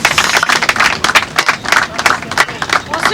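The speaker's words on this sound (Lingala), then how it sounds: "J'aimerais sans tarder vous demander quand même d'applaudir très fort pour maman" Loud applause from an audience at a karaoke association event, dense sustained clapping with crowd noise throughout, no speech over it.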